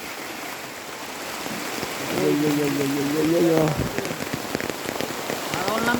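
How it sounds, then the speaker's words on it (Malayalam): Heavy rain pours steadily onto surfaces near a fish-catching pit being drained, a broad constant hiss throughout, with a person exclaiming briefly in the middle and another voice joining near the end. "മഴ പെയ്തു മഴ പെയ്തിരിക്കുകയാണ് പെരും മഴ പെയ്തിരിക്കുകയാണ്"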